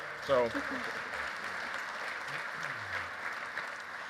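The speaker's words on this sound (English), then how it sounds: "let's give them a nice round of applause" Conference audience applause for a plenary panel, a steady, moderately loud patter of many hands clapping throughout, with a voice speaking briefly over it near the start and a faint murmur later.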